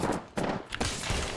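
Gunfire in Apex Legends comes in quick bursts of sharp shots separated by brief gaps, close and loud.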